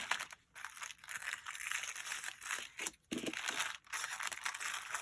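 Dress pattern tissue paper is cut out at close range, a soft continuous crinkling and rustling broken by brief gaps, fairly quiet and without speech.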